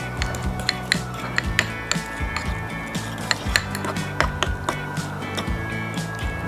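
Soft Stilton blue cheese mixed in a bowl for smash burgers, heard as a steady run of close clicking and tapping utensil strokes against the bowl, fairly quiet and rhythmic with no talking.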